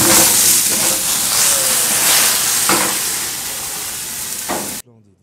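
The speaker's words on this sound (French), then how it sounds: "De l'autre côté de la cuisine, Charlie Kofi frit l'autre moitié du poisson avec du beurre." Half a fish fries in butter in a villa kitchen in Côte d'Ivoire, a loud, dense hissing sizzle with occasional stirring touches that cuts off abruptly near the end.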